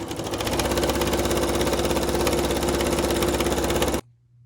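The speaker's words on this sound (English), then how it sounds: "Bringing it right down. And then speed sew." A sewing machine runs steadily at high speed while stitching a fabric face mask, a loud, continuous rapid mechanical whir that holds for about four seconds and then stops abruptly, leaving faint low hum.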